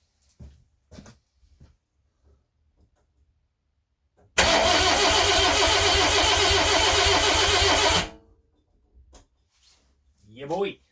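A Mini's engine, freshly swapped in, cranks and fires for a few seconds of loud, steady running before shutting off, with quiet bits of talk and handling noise around it.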